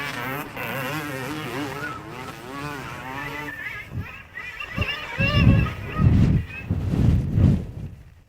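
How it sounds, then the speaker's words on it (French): A motocross bike engine revs and accelerates into a turn, its rising and falling note recorded through the rider's own microphone and punctuated by deep, buffeting wind bursts. "Utiliser l'accélérateur pour amener la moto dans le virage."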